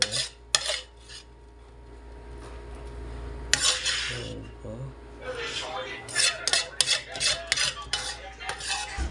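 Cooked food is lifted out with a metal utensil and put into a bowl in a home kitchen, giving a string of clattering clinks and scrapes over a steady low hum, with brief voices now and then.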